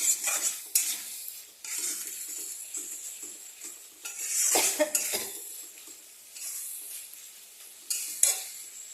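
Tangra fish and potatoes stir-fried in a pan for chorchori, with scraping utensil strokes, clinks and a soft sizzle coming in irregular bursts, close by and fairly quiet, without any talk.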